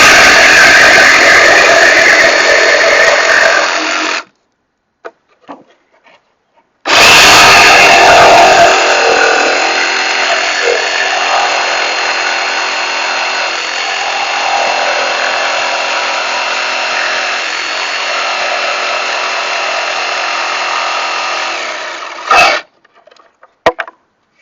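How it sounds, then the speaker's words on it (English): A jigsaw cuts through scrap wood along marked lines in two long, loud runs with a short pause between them, its steady buzzing whine ending in a few faint clicks. "take my jigsaw and cut along the 1-inch and 3-inch line"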